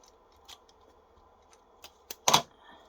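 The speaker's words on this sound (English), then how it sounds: "I'm just going to tape that straight up" A few scattered crinkles and clicks, then a short, loud rip of tape being pulled, close by in a quiet room.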